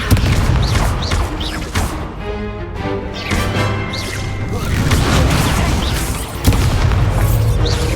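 Spell blasts and booming impacts from a magic duel in Hogwarts Legacy on PS5, a dense run of loud bursts and thuds layered over continuous game music and effects.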